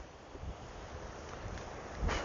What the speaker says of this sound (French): il y a du vent de malade